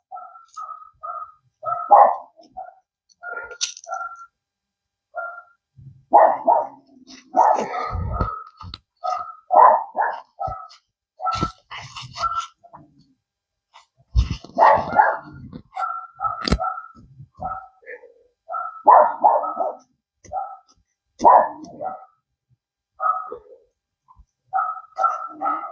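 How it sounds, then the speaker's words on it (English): Several dogs bark repeatedly in a backyard garden, in sharp, loud bursts with short gaps, some yips mixed in, spread unevenly through the whole stretch. "The dogs are going crazy, so excuse all that noise if you can hear it."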